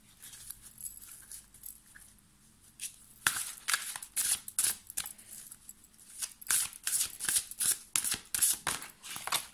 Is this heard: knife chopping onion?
no